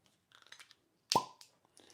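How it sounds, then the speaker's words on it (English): A cork pops out of a Sagamore Rye whiskey bottle in one sharp, close plop, with soft handling clicks and rustles before and after in an otherwise quiet room. "It did give me a better pop, cork pop than that short barrel."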